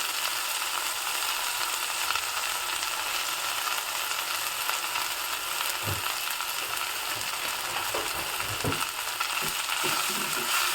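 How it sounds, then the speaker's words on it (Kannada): Chopped fenugreek leaves sauté in hot oil for a Brahmin-style huli, giving a dense, continuous sizzle with occasional scraping clicks from stirring. "ಇದನ್ನು ಎಣ್ಣೆಯಲ್ಲಿ ಚೆನ್ನಾಗಿ ಬಾಡಿಸ್ಕೋಬೇಕು"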